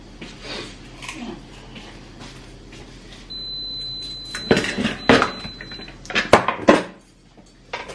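Dishes and pots clattering in a home kitchen while a dishwasher is loaded, a few sharp clinks and knocks in the second half after a quieter stretch, with a faint steady tone running underneath.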